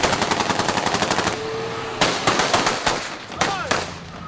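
Rapid automatic gunfire in a street battle, bursts of loud close shots in quick rhythmic succession, then a brief pause before more scattered cracks and short volleys, with voices shouting underneath.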